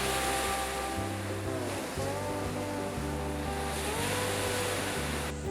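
Ocean waves wash against rocks at high tide on Molokai, heard as a constant loud roar of surf with wind noise mixed in. A low droning hum runs underneath.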